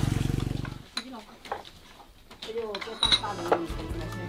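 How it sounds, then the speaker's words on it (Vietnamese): Eggs frying in a pan for a meal, with loud sizzling and crackling at the start that fades, then returns with clinks of cookware while a person talks over it. "Giờ mình sẽ chiên thêm trứng."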